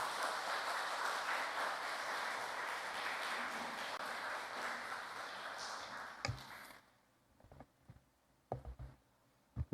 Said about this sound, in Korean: 따뜻한 격려의 박수로 모시겠습니다.